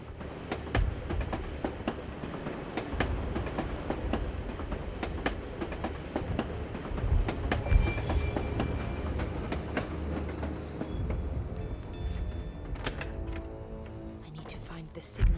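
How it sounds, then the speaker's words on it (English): Tram ride in the Russia chapter of the Assassin's Creed Chronicles video game: a steady rumbling rail-car drone with rhythmic wheel clicks and occasional squeals, carrying on for the whole stretch at moderate loudness. "This tram will take me to the edge of the Volga"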